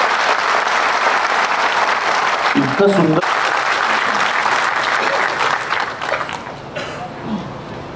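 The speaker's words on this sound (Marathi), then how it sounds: "आमचा सगळ्यात आवडता आवाज म्हणजे हा जो टाळ्यांचा आवाज असतो पडदा उघडल्यानंतर" A concert audience at a Diwali morning music show applauds loudly and continuously as the curtain opens, and a brief spoken phrase cuts in partway before the clapping slowly thins out.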